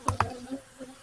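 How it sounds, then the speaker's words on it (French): Honey bees buzzing around a beekeeper's head during a hive inspection, two short close bursts followed by a faint low hum fading away. "Elles défendent leur miel."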